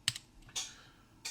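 Keys tapped on the keyboard of a Minstrel 2, a Sinclair ZX80 clone, sounding as three distinct, close, crisp keystrokes over a quiet background.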